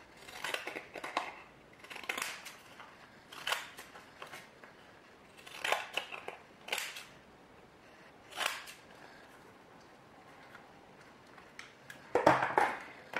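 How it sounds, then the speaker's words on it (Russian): Decorative scissors trim the edges of a white-painted card for a handmade New Year scrapbooking card, giving about eight separate crisp snips spaced a second or two apart, close and alone. "Края ее я подрежу фигурными ножницами."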